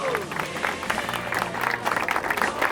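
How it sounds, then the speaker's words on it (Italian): An audience claps at a Paralympic swimming award ceremony as the winner is honoured, a moderate, uneven patter of hands from a modest crowd over a faint background hum. "Un applauso."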